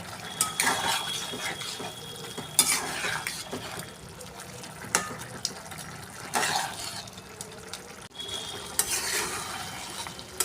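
Cucumber and shrimp curry cooks in a pan, a steady bubbling sizzle broken by scraping stirs and clinks of a utensil, heard close with no talk.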